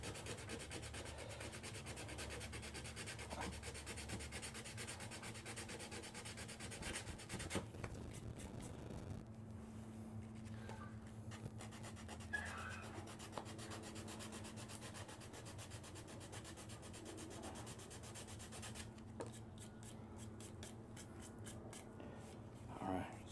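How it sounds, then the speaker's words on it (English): Hand sanding with 120 grit sandpaper on a Nerf Strongarm blaster build, close scratchy rubbing strokes in bursts with short pauses between, under occasional quiet talking. "I'm gonna get me some sandpaper real quick, some actual sandpaper. So this is 120 grit"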